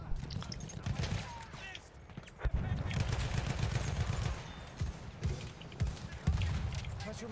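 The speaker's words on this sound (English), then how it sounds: "He's taking me out with flipping pistols" Gunfire crackles through a Battlefield 1 match, where an enemy is shooting with pistols: repeated sharp shots, some close and some distant, over a busy battlefield din with voices underneath.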